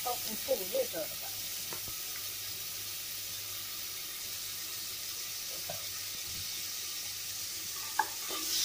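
Onions with a pinch of salt sauté in a pan for a pressure cooker veg biryani, a soft, fairly faint sizzle running steadily with a few clinks and stirring scrapes near the start and end.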